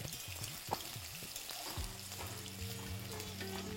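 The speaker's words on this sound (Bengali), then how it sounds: "আমি সবকটা আলু একেবারে ফ্রাই করলাম না, ব্যাচ ওয়াইজ ফ্রাই করে নিচ্ছি।" Potato pieces fry batch-wise in hot oil in a home kitchen while vegetarian paneer aloo curry is made: a soft, steady sizzle with occasional stirring clinks and scrapes, faint and close, with no talking.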